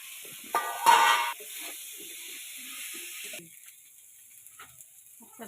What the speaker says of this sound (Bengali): আমি দিয়ে দেবো ভেজে রাখা আলু ফুলকপি নিয়ে